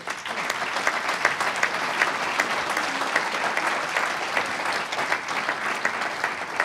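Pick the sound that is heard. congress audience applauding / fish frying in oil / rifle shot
congress audience applauding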